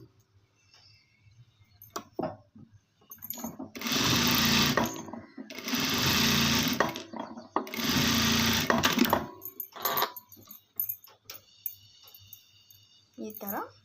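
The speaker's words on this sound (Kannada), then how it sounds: "ಇಲ್ಲಿ ಎಡ್ಜ್ ಸ್ಟಿಚ್ ಒಂದು ಹಾಕ್ಕೊಳ್ಬೇಕು ಫ್ರೆಂಡ್ಸ್" Sewing machine edge stitching fabric in three loud bursts of whirring a few seconds each, close to the microphone, with quieter handling noises between them and after.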